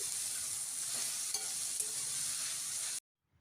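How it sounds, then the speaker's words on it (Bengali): Grated beetroot being stirred into onion and potato frying in a pan, giving a steady close sizzle with light scraping for about three seconds before cutting to near silence. "গ্রেট করে রাখা পুরো বিটটা আমি দিয়ে দিলাম দিয়ে আবার খুব ভালো করে সব মিশিয়ে নিচ্ছি"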